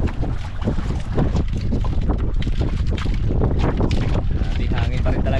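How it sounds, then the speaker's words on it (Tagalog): Strong wind buffets the microphone in a steady, roaring rush over open water, with a boat's motion and a voice talking faintly beneath it. "Di hangin pa rin talaga"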